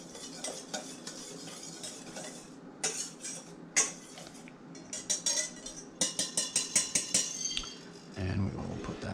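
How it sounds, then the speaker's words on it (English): A metal whisk scrapes and clinks around a bowl while flour and cocoa are combined for brownies, tapping in quick rhythmic bursts that grow into a fast run of clatters close by. "just kind of whisk this together a little bit to kind of combine them"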